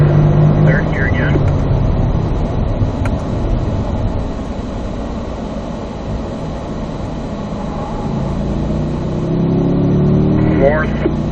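Corvette engine on a track during a Ron Fellows Corvette Experience driving run, droning steadily near and loud as it works through the gears, with a rise in pitch near the end as it accelerates.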